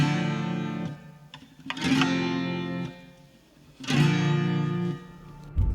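Enya Nova Go SP1 guitar played through its built-in reverb effect, two strummed chords ringing out with long reverberant tails, loud and close with no voices.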